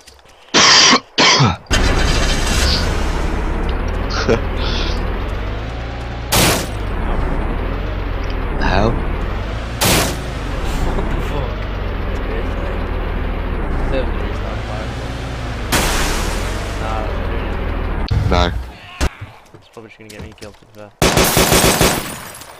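Gunfire in the video game DayZ: a few loud, sharp bursts spread through the stretch, with voices talking and coughing between them.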